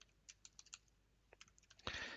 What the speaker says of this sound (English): install it by typing in dnf install